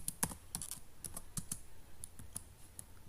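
Someone types a search on a computer keyboard, a quick run of light, close key clicks at an irregular pace with no voices over them.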